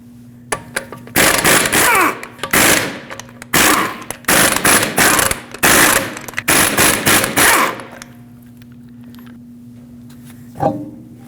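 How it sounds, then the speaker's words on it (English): An impact wrench with a 19mm socket removes the five lug nuts from a rear wheel of a 2013-2019 Ford Escape, giving loud, close rattling bursts in a rapid series, then a steady hum once they stop. "Use a 19mm socket, remove all 5 lug nuts, and then pull the wheel off."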